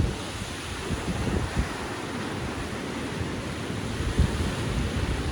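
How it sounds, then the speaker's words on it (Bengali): Ocean waves wash steadily onto a sea shore, a broad hissing roar with small surges, mixed with some wind buffeting the microphone and no voices. "সমুদ্র তেমনি একটি নিদর্শন।"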